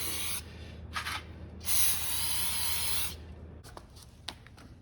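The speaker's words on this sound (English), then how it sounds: "We're gonna spray her down, let her soak with brake clean for a little bit" Brake cleaner sprays from an aerosol can onto an old mower carburetor in bursts: a couple of short hisses, then one long steady spray, followed by faint clicks and handling noises.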